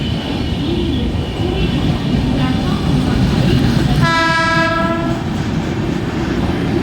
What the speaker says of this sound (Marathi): बाजूला ट्रेन येते तिकडून